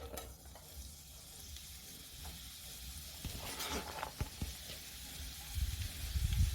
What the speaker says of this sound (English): Now you put your pan on fire with about 3 tablespoons of oil, and straight away you layer your cabbage.